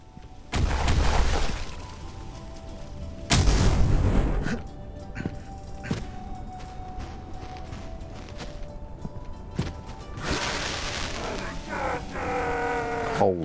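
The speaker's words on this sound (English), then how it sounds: "Holy shit, can you calm down with the explosions?" Heavy explosions go off in the video game Cultic, two big loud booms early on followed by scattered impacts and thuds, with a voice talking over parts of it.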